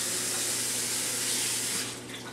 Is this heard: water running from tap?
yes